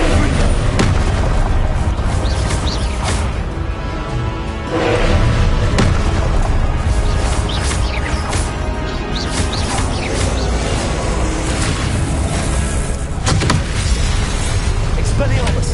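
Confringo blasting-spell explosions in the video game Hogwarts Legacy: loud, repeated booms and sharp blasts amid chaotic combat noise, with a voice shouting spell names over the fight.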